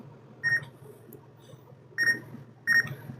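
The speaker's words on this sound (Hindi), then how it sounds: "मैं बीप से आप लोगों को इसको चेक करवा लेता हूँ" A multimeter continuity tester beeping while checking the contacts of a push button switch: three short, sharp electronic beeps spaced unevenly over a faint background hum.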